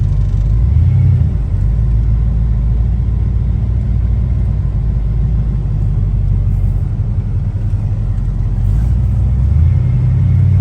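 Steady low engine rumble of a 1978 Chevrolet K5 Blazer 2WD driving, with subtle changes in pitch as it shifts from first to second to third gear; no voices.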